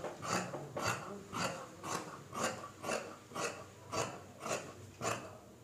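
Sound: cutting trouser fabric along marked line

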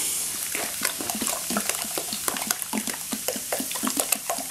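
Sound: pouring warm Pepsi into container

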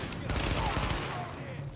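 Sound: SMG gunfire in the video game The Division

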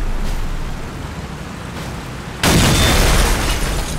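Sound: bots exploding in the video game Crossout

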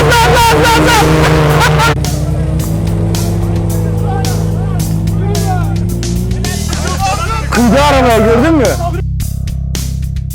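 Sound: off-road car accelerating as driver floors the gas

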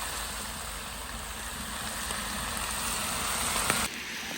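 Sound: onions frying in a cauldron for plov

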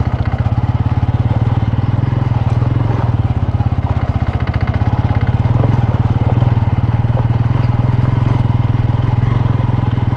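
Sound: motorcycle riding slowly off-road

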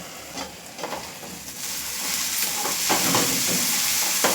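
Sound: bun dosa cooking covered on medium flame

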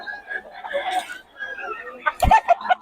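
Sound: stag gamecocks, young roosters, at a market stall

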